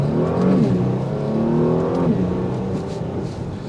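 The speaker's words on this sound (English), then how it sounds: "put her into first and give her a little go." A 2022 Porsche Panamera 4 Sport Turismo pulls away in first gear, its engine revving up close and loud, dipping at a shift and climbing again before settling into a steady drone.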